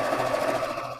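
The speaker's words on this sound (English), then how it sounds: "send it through my sewing machine" A sewing machine stitches quilt fabric pieces in a short, steady mechanical whir of rapid needle strokes, close and continuous for about a second without any voices.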